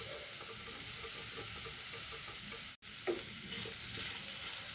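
Salt, sugar, turmeric and pepper stirred into sliced capsicum frying in a pan, a soft continuous sizzle with light scraping strokes, fairly quiet, broken by a brief dropout near the middle.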